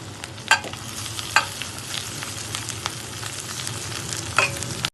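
Boiled potatoes, crushed by hand, being stirred into roasted spices in a pan for Jodhpuri mirchi vada, with a steady low sizzle and occasional scraping clinks of a spoon against the pan.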